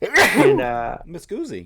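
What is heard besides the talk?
sneeze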